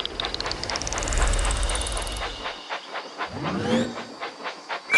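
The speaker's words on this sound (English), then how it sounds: "Clear the tracks! Engine coming!" Train engine sounds in the Thomas & Friends Minis video game, with a hissing steam burst and rhythmic chuffing over a rumbling rail bed, joined by a rising whistle-like sweep, loud and continuous.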